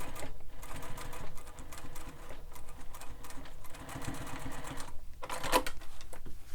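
A sewing machine bastes fabric onto foam along stitching lines for a sling pack, running in a steady, fast rhythm through the whole stretch, with brief dips as the fabric is guided and no talking.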